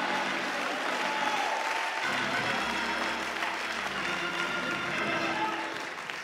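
A church congregation claps and cheers during a praise break in a worship service, loud continuous applause filling the room with scattered shouts and voices mixed in.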